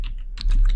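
Several quick keystrokes tap on a computer keyboard, close and clear, in a short burst of light clicks with a slightly denser cluster near the end.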